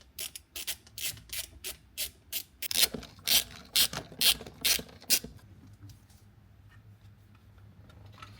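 A ratchet clicks in a quick series of sharp ratcheting strokes while the shifter and plate above a gearbox are removed, close up, then tapers into quieter handling sounds.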